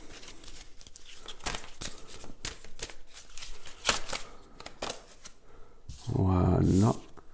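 Cards from an oracle deck are handled and drawn, making crisp papery rustles and soft slaps in quick bursts, followed by a brief voiced sound near the end.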